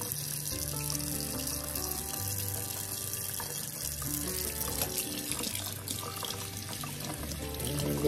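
Water runs steadily from a kitchen sink tap to fill the sink for a bath, a constant close splashing stream with a faint low hum underneath, uninterrupted for the whole stretch.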